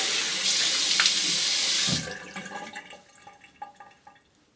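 A water tap runs full for about two seconds for a rinse, then shuts off, leaving soft trickles and drips fading into quiet.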